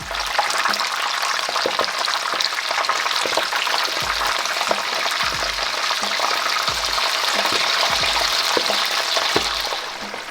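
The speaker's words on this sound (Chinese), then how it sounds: "我们把它一定要改成小火，然后呢下入海鲜菇，慢慢的炸，别着急。" King oyster mushrooms deep frying in hot oil over low heat, a loud continuous sizzle and crackle with occasional soft knocks and stirring clinks, no speech.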